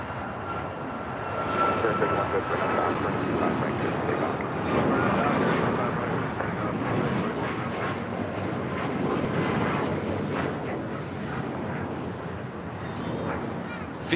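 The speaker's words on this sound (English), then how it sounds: "Fiji Airways Flight 810 coming up from Nandi, the A350-900 touching down here on the south side." Fiji Airways Airbus A350-900 jet touching down on the south side at LAX, a steady loud roar of engines and wind that lasts throughout, with people talking faintly underneath.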